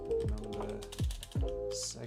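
Quick, close keystrokes on a computer keyboard, a handful of distinct clacks with short pauses between them, in a quiet room.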